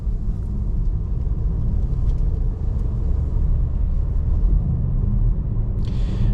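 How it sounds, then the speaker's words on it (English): A 2024 VW Taos SEL with a turbo 4-cylinder driving on a road, heard from inside as a steady low rumble of engine and road noise, constant and unbroken, with no talking. "The turbo 4-cylinder under the hood is also pretty quiet too,"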